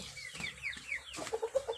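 A farmyard chicken clucks near ducks, starting with a few soft chirps and then a quick run of short, rhythmic clucks at moderate volume, with no talking.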